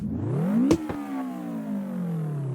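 A fully modified supercharged car engine in CarX Drift Racing Online revs up in a rising tonal whine, peaks briefly, then falls back and holds a steady lower drone, close and loud with no talk.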